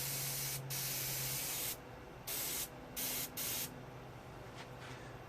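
Several bursts of aerosol spray, one short then longer hissing sprays, close and fairly quiet, with pauses between.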